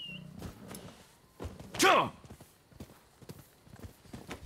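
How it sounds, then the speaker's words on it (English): Horse hooves in a video game, Rise of the Ronin, clip-clop in a steady run, broken by a sudden loud whooshing thud midway, with a voice talking faintly underneath. "We'll call our horse to get over there a little faster."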